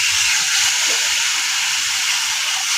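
Mustard and green chili paste frying in a pan for sorshe parshe fish gives a steady, loud hiss and sizzle that runs unbroken for a few seconds.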